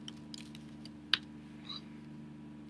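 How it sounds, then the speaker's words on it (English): A name is typed on a computer keyboard: quiet, scattered key clicks with a few sharper taps, fairly close, in an otherwise hushed room. "Now let me type in my name"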